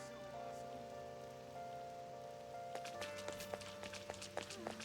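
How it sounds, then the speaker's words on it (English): Rain falls softly and steadily in the video game Persona 5 Royal, a faint patter under a quiet sustained musical tone, with sharper droplet taps growing denser in the second half. "I feel so down when it's raining."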